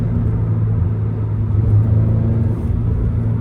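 Toyota GR86 sports car engine heard from inside while driving, a steady low rumbling drone with a slight rise in revs midway, loud and continuous with no talking.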